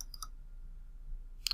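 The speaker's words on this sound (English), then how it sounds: "Click on that, and you go click on customize." A computer mouse gives a few sharp, close clicks, a quick pair at the start and another pair near the end, with near-silence between.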